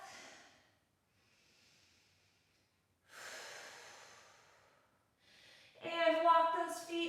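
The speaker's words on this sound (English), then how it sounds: "Nice deep breath." Deep breaths drawn in and let out during a full-body workout stretch, a faint inhale followed by a longer, louder exhale and then a sharper, noisier breath, heard close and alone.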